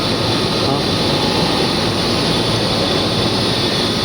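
A newly installed water pump runs with a slight vibration, giving off a loud, steady, broadband mechanical drone that holds evenly for the whole stretch.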